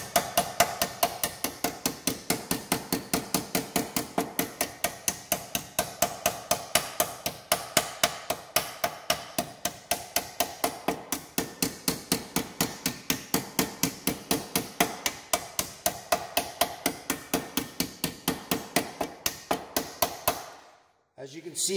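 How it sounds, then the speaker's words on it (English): Rapid, steady hammer blows on a metal replacement part for a 1930s pedal car, several strikes per second in a near, even rhythm lasting about twenty seconds before stopping. "As you can see, while I'm hammering on it, when it goes in here, it pushes up here"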